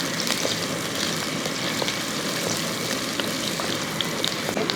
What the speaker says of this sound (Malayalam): ഇഞ്ചിയും വെളുത്തുള്ളിയും ഒക്കെ ഒന്ന് മൂക്കട്ടെ.